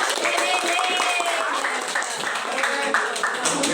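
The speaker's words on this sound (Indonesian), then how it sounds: "tepuk tangan dulu" Students in a classroom clap together during a lesson, a brisk and fairly loud burst of many hands clapping close by, with no speech over it.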